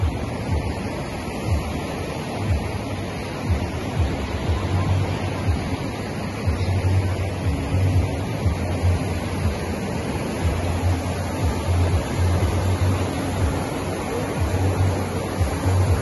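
Waves in a hotel wave pool in Manila, heard as a steady, loud rush of surging water and surf noise throughout, with no clear talk over it.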